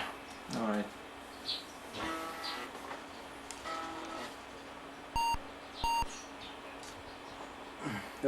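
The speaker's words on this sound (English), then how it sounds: "Okay, I get crystal clear beeper noises now." A 386SX computer's PC speaker beeper, very loud on its sound card, gives two short, clean, high-pitched beeps about half a second apart. Faint room noise runs underneath, with brief background voices.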